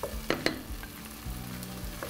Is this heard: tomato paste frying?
yes